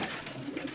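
Soft pigeon cooing, a brief low throaty murmur heard close by with no talking.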